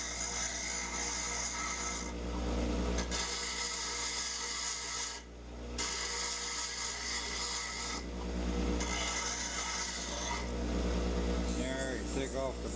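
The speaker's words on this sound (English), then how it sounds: "There, you take off the burrs." A hand file rasps burrs off a cut blade in a rhythmic series of close, gritty strokes, each separated by brief pauses, with a voice faintly present.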